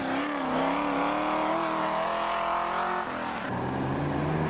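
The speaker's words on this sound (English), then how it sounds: "Driving through the thick dust into the sun of slowing down the Pennzoil Land Rover of Cliff Barker and Heinrich Lautergan" A Pennzoil Land Rover rally car in the 1998 Sugarbelt 400 off-road race drives through thick dust, its engine a steady, strained drone with a shift in pitch near the end.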